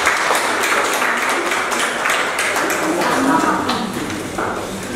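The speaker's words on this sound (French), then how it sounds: "On applaudit pour Josué" An audience claps for Josué, a 17-year-old shepherd, at a scholarship award event. Dense, sustained applause fills the room, with crowd murmur mixed in.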